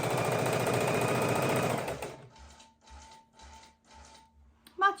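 A sewing machine stitches a quilt border in a loud continuous run for about two seconds, then slows to a few short separate bursts of stitching with pauses between.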